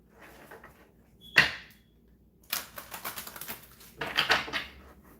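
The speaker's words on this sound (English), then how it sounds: "One more shuffle." Tarot cards are shuffled in short bursts of crisp riffling and snapping, one sharp flick followed by two longer clattering shuffles, close and moderately loud in an otherwise quiet room.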